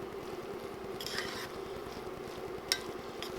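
Fresh coriander being stirred into cooked black rice with a utensil: a faint, steady soft scraping and shuffling, broken by a couple of light clinks against the pan.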